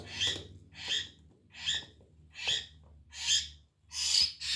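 Six rhythmic bursts of harsh, breathy hissing calls from two young saling bird chicks, close by, repeating about once per second with faint background hum.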